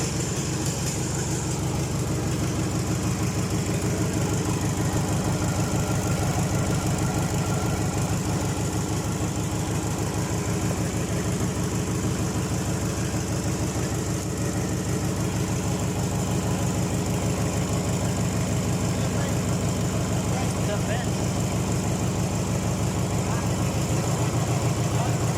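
A Mitsubishi 4D32 diesel engine idles just after starting, a loud, steady low clatter and throb running continuously and close by, with a slight change in pitch near the end.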